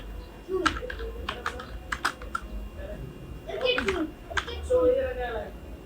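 Rapid bursts of keystrokes on a computer keyboard while HTML code is entered for a web page, clicking in short irregular clusters close to the mic, with a faint voice murmuring at times.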